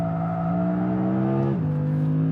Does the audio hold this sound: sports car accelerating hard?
yes